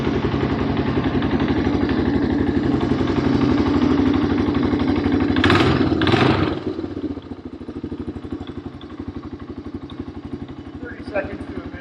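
A 1985 Honda ATC250ES Big Red ATV engine runs steadily with a throbbing idle close by, a couple of brief bursts of noise partway through before it settles lower.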